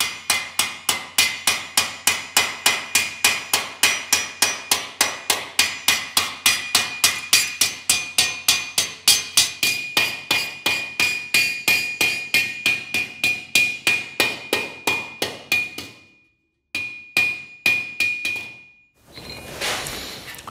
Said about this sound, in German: Man klopft irgendwann mal halt an verschiedene Stellen auf dem Blech drauf